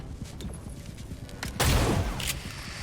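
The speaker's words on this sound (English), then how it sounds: "Take some very dangerous low percentage shots." Gunfire in the turn-based video game XCOM: Chimera Squad, a loud burst of rapid shots partway through with lighter game sounds before and after.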